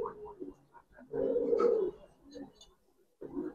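Pigeons in a loft, including Giribaz silver-winged birds, give low, soft cooing calls in short bursts with pauses between them, fairly quiet and close.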